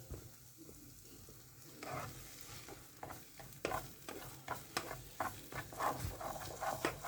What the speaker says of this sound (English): you pretty much just stir this around until it becomes fluffy and a little drier